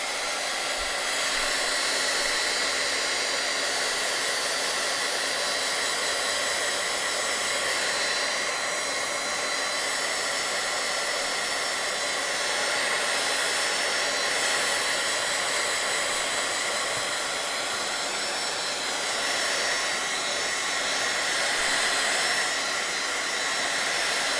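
A hair dryer runs continuously at close range with a loud, even whooshing roar, drying paint on a steampunk craft tag, with no one talking.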